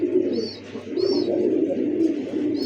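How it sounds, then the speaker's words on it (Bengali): A pair of silver Giribaz high-flyer pigeons coo in soft repeated low rolls, close and steady, with a few faint higher chirps in between. "দেখার মতো একজোড়া ভাই হাই ফ্লার সিলভার গিরিবাস কবুতর"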